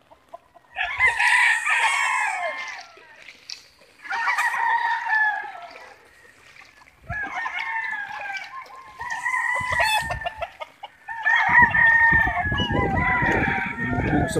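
Chickens and roosters caught in typhoon floodwater cluck and crow in repeated loud bursts close by, several birds calling over one another in bouts separated by short pauses, with splashing or rustling noise toward the end.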